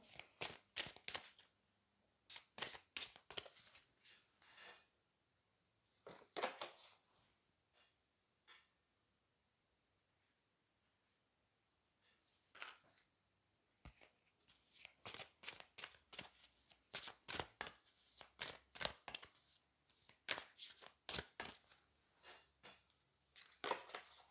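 Oracle cards from the Magic of You deck are shuffled and drawn, giving bursts of quick, crisp riffling and slapping with a quiet pause in the middle.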